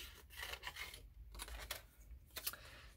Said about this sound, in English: These scissors make it super easy to cut this image as super close as I want to.